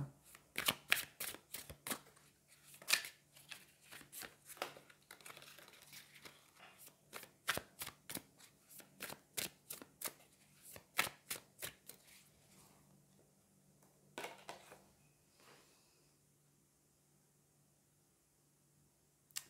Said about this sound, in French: Je vais aller prendre d'autres cartes, on va voir un petit peu ce qui se passe.